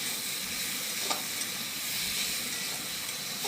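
Spiced cauliflower and potatoes frying in a pan give a steady, bright, hissing sizzle, with a few faint clinks of stirring against the pan.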